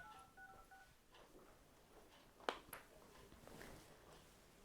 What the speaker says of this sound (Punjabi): ਫਿਰ ਚੱਲ ਮੈਂ ਕਾਲ ਕਰਦੀ ਆ ਸੁਪ੍ਰੀਤ ਨੂੰ